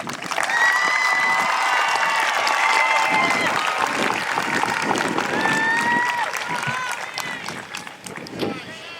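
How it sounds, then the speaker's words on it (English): Sustained applause from a large graduation ceremony audience, steady dense clapping with some cheering mixed in, fading slightly toward the end. "Please join me as we honor these students with a round of applause."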